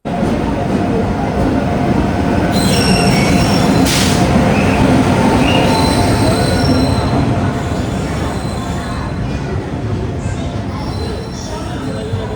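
A passenger train runs along the rails on a journey from Trivandrum, a loud continuous rumble of wheels on track with drawn-out high squeals from the wheels, close and steady throughout.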